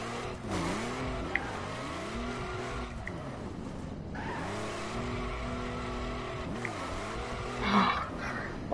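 Monster truck in a PS4 racing game, engine droning steadily with pitch rising and falling as it accelerates, tires squealing and skidding through repeated slides, loud and close, with a brief crunch near the end.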